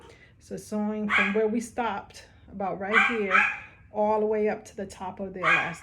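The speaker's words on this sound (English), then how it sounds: "sorry about my dog" A pet dog yips and barks in short, repeated bursts at home during a sewing session, the sharp calls mixed with someone talking steadily over them.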